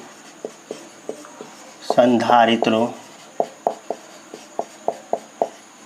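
Chalk or marker strokes tapping and scratching on a board in a steady series of short sharp marks, with a brief burst of someone talking partway through.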